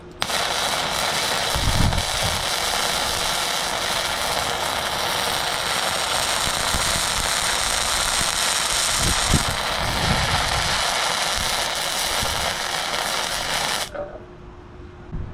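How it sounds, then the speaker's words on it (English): A BestARC MIG welder lays a continuous bead on steel plate, a steady loud crackling sizzle running unbroken for about fourteen seconds before cutting off abruptly, with a few low thumps underneath. "We're just laying a bead on some plate and seeing how it welds."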